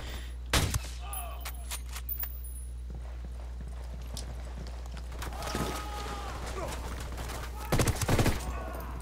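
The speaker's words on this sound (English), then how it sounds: "Opening fire on these fuckers." Gunfire in the video game Ghost Recon Wildlands comes in short, loud bursts of rapid shots near the start and again near the end, with game ambience and some talk between.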